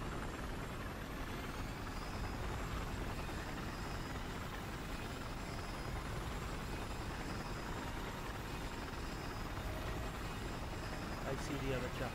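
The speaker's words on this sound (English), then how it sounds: "Get to the chopper!" Helicopter in the video game Battlefield 4, a steady, dense rotor and engine drone running unbroken and fairly close throughout, with a player's voice talking over it.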